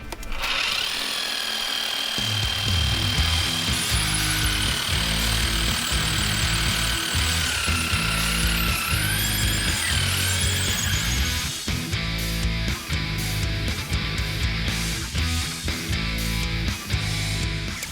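A power drill bores holes in a garage during a demolition job, running continuously as a loud, steady grinding whir with a rhythmic hammering pulse underneath and no let-up across the whole stretch, close by.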